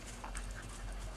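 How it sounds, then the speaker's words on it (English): A dog pants in quick, soft breaths close by, with a faint whimper, brief and fairly quiet with no talking. "Silly doggy."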